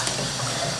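Running tap water pours steadily over a hydration bladder part held beneath it, a continuous close hiss of flowing water at the sink with no talking.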